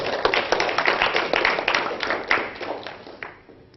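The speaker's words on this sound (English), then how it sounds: "so if we can give him a round of applause" Audience applause for a speaker at an Oxford Physics Society talk, a modest room of people clapping with distinct individual claps, steady for about three seconds before dying out.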